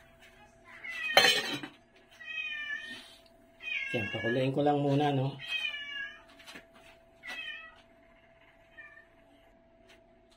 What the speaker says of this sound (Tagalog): Maatungal na yung aking pusa.